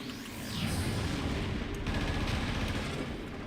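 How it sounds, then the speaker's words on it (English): Thrown bombs explode in the Warframe video game, a dense, continuous roar of blasts and rumbling detonations with no clear gaps, heard without talk. "Keep throwing bombs at me."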